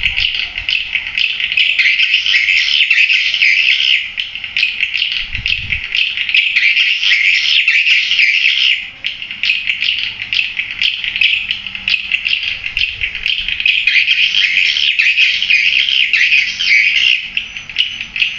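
Greenway Super swiftlet call recording from Dunia Walet played through an amplifier: a loud, continuous stream of high chirping and twittering that runs steadily without pause, with faint low rumbles underneath.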